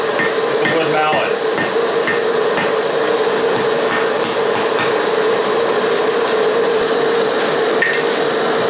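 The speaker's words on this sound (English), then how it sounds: "with the wood mallet." A wood mallet strikes a ladder Damascus steel blade on an anvil horn to straighten the bevel. Irregular, fairly close knocks sound over a constant shop hum.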